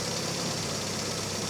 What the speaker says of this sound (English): You can hear it's just a little bit poppy out the exhaust.